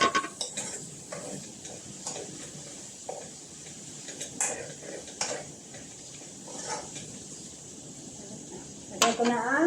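Shrimp stirred in a pan while cooking pinakbet, with scattered utensil scrapes and clinks against the pan over a faint sizzle and a sharper clatter near the end.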